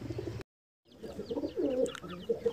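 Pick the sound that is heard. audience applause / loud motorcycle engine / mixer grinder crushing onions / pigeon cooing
pigeon cooing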